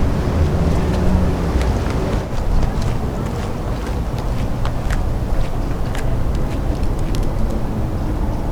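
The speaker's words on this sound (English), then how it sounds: "If the wind is strong here, I'm sure when we get to the top, el viento será muy fuerte." Strong wind gusting across a hillside on the climb up Cerro la Bufa in Zacatecas, a steady loud roar buffeting the microphone throughout with no break.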